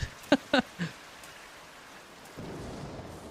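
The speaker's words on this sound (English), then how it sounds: "Oh, it's raining." Rain falls steadily in an anime episode, a soft hiss that swells a little louder near the end, with a few brief tonal sounds early on.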